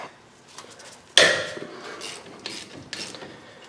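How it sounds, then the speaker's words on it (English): A wrench working on a 13 mm brake caliper bolt on a Ram 1500, with a sharp metallic crack as the bolt breaks loose followed by a few quick ratcheting clicks, close and distinct with no talking. "we need to remove these two bolts here. They're 13 millimeters."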